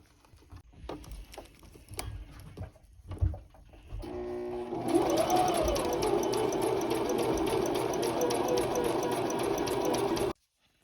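Sewing machine stitching a hair weft, starting with a few quiet handling clicks and taps, then running steadily and loudly at a fast, even rhythm for several seconds before stopping abruptly.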